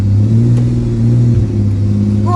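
A Nissan R33 Skyline engine drones steadily and close while driving around an industrial estate, its low, even hum rising slightly in pitch near the end.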